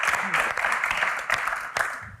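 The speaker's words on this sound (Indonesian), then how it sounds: "Tepuk tangan sekali lagi untuk Kak Mel dan Kak Tyson" An audience at a live Q&A event applauding, a dense wash of many hands clapping together, loud and sustained with a faint voice under it.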